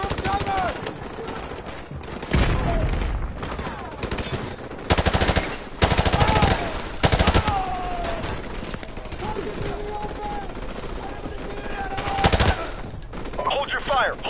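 Heavy gunfire in the video game Call of Duty: Modern Warfare Remastered, with repeated automatic bursts and shots against a battle din, while soldiers shout over it.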